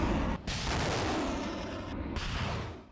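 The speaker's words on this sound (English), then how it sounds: "The launcher rumbles into the middle of the field and fires 4 rockets in quick succession" A truck-mounted rocket launcher in an open field fires four rockets in quick succession, producing loud, continuous roaring blasts with a couple of brief breaks, close and overpowering.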